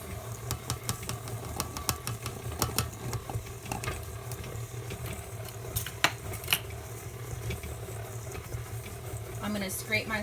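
A stand mixer churns stiff, chunky oat cookie dough on slow speed, a steady low mechanical hum running throughout with scattered clinks and knocks, with a person talking over it.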